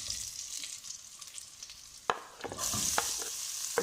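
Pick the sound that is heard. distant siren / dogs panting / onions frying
onions frying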